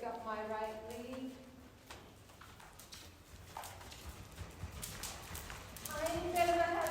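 Hooves of a performance horse being ridden in an arena beat out a soft, rhythmic clip-clop at moderate distance, heard faintly beneath a rider talking.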